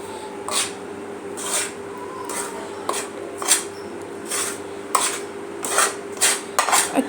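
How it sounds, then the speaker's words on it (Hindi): Dry pizza dough ingredients whisked in a bowl, repeated scraping and rubbing strokes against the bowl's sides in irregular bursts over a quiet steady hum, close up and without talk. "इनको मैं मिक्स कर लूँगी।"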